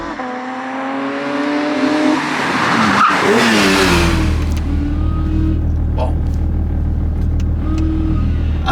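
Porsche 911 992 GT3 RS with traction control switched off, its engine loud and close from inside the cabin, climbing in pitch through the gears with a brief tyre chirp near the middle and then settling into a steady drone. A few short words are spoken over it.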